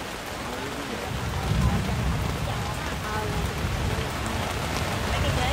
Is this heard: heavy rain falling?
yes